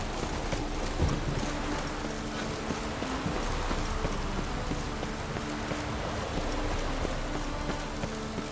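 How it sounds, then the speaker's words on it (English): Rain in The Witcher 3: Wild Hunt, a steady broadband patter of falling rain with faint low rumbles and occasional soft thuds, continuous and even throughout. "Rain again."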